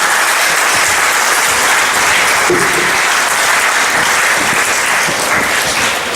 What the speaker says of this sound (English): That deserves your applause.